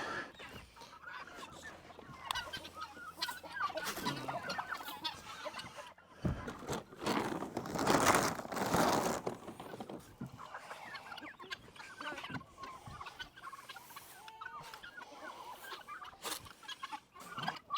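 Backyard chickens clucking and calling close by in a flock, a steady stream of clucks with a louder burst of squawking midway.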